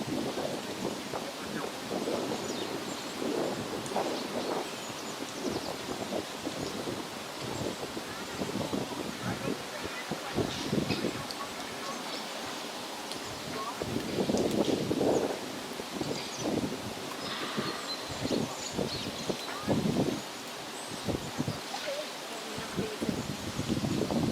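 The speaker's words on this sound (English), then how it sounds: "Listen to that wind." Strong wind blows outdoors at Yellowstone, a steady roaring rush that buffets the microphone with low rumbling gusts for the whole stretch, with faint voices underneath.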